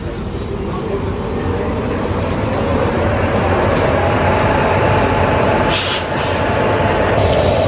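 Onboard the Ranikhet Express sleeper train, hauled end to end by a WP4 locomotive, a steady loud rumble of wheels and carriage noise runs throughout, with brief hissing bursts near the end.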